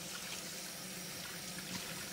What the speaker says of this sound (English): I'll give this a rinse out.